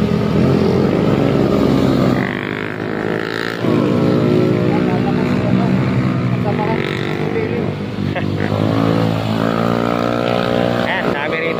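Many motorcycles ride past on a hot, busy road, their engines forming a loud, continuous drone that rises and falls as bikes go by, heard from a rider moving at speed.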